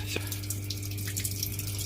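Water trickles slowly into a Samsung washing machine with a weak inlet flow, a faint, steady hiss and gurgle over a low background hum.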